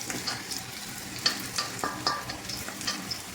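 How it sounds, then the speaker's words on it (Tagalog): Garlic frying in oil in a pan for an egg noodle soup, a steady close sizzle with faint crackles and a few brief clinks of a utensil stirring. "Ang sarap ng aroma ng bawang pag napiprito."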